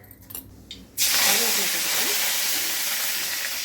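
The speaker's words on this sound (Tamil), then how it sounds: "பானலி சூடானது கொஞ்சம் எண்ணெய் ஊற்றிக்கிறேன். கடுகு கொஞ்சம் போட்டுக்கலாம்." Mustard seeds hit hot oil in a pot for a garlic kuzhambu, bursting into a loud, sustained sizzle and hiss right after a few quiet clatters, with a voice speaking under the frying.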